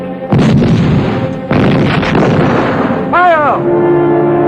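Gunfire in a 1969 war film set at El Alamein: broadband booming bursts of battle fire roll across the scene, loud and dense, with a brief rising whine near the end.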